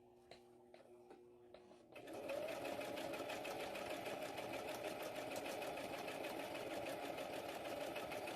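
A sewing machine starts after a few light clicks and then runs continuously, a loud, close, fast mechanical whir as it stitches ruffle fabric for an anklet, with a voice speaking faintly beneath it.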